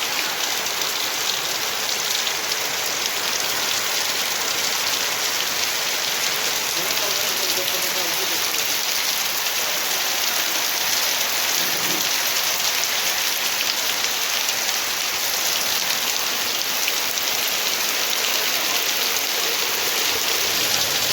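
Steady heavy rain pours down throughout, a dense continuous hiss of drops on surfaces with no break.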